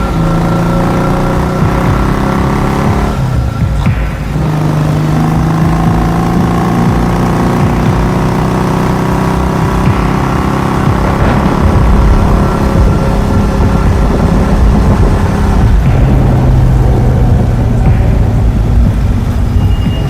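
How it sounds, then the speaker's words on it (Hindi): Motorcycle engine running steadily at a medium pitch, loud and close throughout with slight shifts in revs, used as a sound effect for riding to an old haveli in a horror story. "और फिर गुल्ली की बाइक पर बैठ गया और बाबा ने अपनी बाइक निकाल ली"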